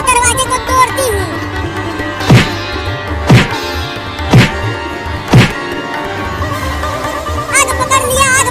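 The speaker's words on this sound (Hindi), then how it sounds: "रुको मैं दरवाजे को तोड़ती हूँ।" A jammed door gets broken down in a comedy cartoon: four heavy, evenly spaced thuds land about a second apart over steady background music, with no talk.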